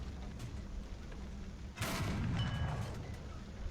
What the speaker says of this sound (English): Here we have the heat shell in action.